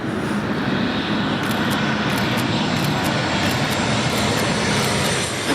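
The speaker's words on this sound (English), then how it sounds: "Oh, plane's coming, plane's coming." A fixed-wing airplane passes overhead as a broad, steady engine roar that fills the whole stretch at fairly strong level, with no talk over it.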